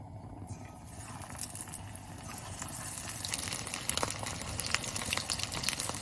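Fish skin marinated with cumin, white pepper, salt, chili powder, egg yolk and starch is deep-fried in hot oil. It gives a steady, dense crackling sizzle that swells slightly louder partway through, with scattered sharper pops.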